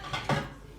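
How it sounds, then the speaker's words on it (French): Plates and cutlery clink and clatter up close as a dishwasher is unloaded in a home kitchen, two quick rattling bursts in quick succession. "Je vais vider mon lave-vaisselle en même temps."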